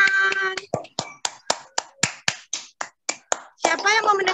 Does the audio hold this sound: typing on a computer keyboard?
no